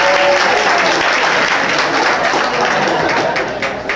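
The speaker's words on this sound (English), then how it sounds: "Clap it up, stoners." A stand-up comedy audience breaks into loud, dense applause and clapping that fills the room steadily, with faint crowd murmur and no clear speech.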